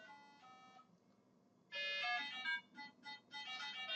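Tinny Latin rock music plays from the small sound module of a Märklin Dance Car 4998 model train car, with bursts of synthetic melody after a quieter start.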